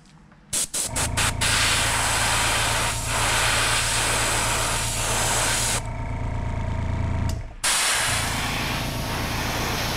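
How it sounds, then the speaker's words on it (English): A hair dryer blows steadily and loudly close by over an airbrushed jerkbait lure, with a few clicks as it switches on and a brief dip in the airflow partway through. "Let me hit it with a hair dryer."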